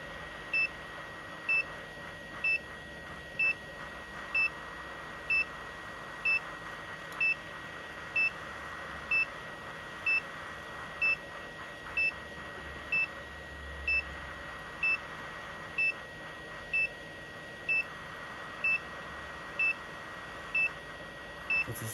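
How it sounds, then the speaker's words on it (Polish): A rework station's temperature alarm at 215 degrees: short electronic beeps repeat at a steady, even pace, about one every second, over a constant machine hum with no talking. "To co słyszycie, ten alarm to jest alarm przy 215 stopniach."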